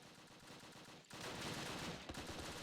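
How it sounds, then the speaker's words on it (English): Heavy gunfire from the Close Combat World War II strategy game, a rapid crackle of rifle and machine-gun shots that starts faint and jumps to a loud, sustained barrage partway through. "Okay, we're taking heavy fire here."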